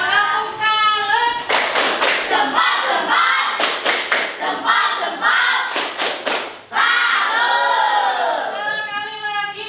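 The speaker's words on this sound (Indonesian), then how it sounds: "Beri tepuk salut dulu ya, biar semangat ya." A group performing the Indonesian 'tepuk salut' salute clap, chanting voices broken by several sharp bursts of rhythmic clapping in unison, loud and close.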